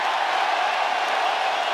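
A dense arena crowd at a mixed martial arts bout between Josh Emmett and Ilia Topuria roars in steady appreciation, a loud continuous wash of cheering with no breaks.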